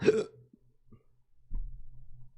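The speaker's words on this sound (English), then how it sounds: "Excuse me, I got hiccups, bro." A man gives a sharp, loud hiccup right at the start, followed by quiet low room hum and a faint shuffle, with no talking.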